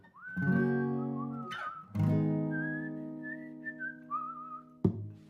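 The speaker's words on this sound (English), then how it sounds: "If you know the whistle, you're welcome to whistle with me." A person whistles a melodic tune in sustained, clear notes with slight pauses between phrases, close and fairly loud, with no talking.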